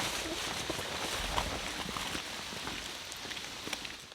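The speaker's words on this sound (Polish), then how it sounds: "Deszcz na mnie straszny." Steady rain patters on a surface, a dense continuous hiss with scattered drops, fairly soft and even throughout.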